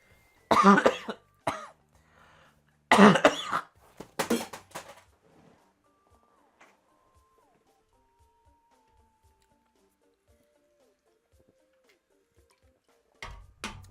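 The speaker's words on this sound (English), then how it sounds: "I gotta just clear my throat for a second." A person clears their throat and coughs several times in quick harsh bursts, close to the microphone, then quiet with a faint clatter at the end.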